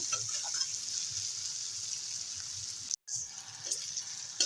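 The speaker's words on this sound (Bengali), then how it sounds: "কিছুটা মতো নেড়ে চেড়ে একটু ভেজে নেব" A taro leaf mixture fries and gets stirred in a pan, a steady close hiss of sizzling with light scraping, briefly broken by a gap, and no talking.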